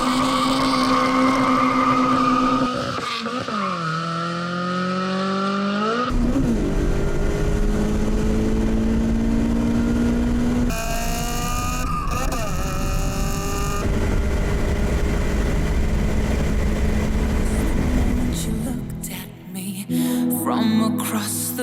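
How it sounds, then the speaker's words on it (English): A Toyota Corolla Levin AE111 with a 20-valve four-cylinder engine is driven hard, revving up and shifting through the gears in loud, rising and falling sweeps that break off sharply between runs, with no talking. "put this car through its paces"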